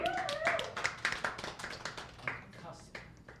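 Scattered hand claps during a live charity fundraising stream, a handful of people clapping unevenly in short bursts while a person talks and laughs over them nearby.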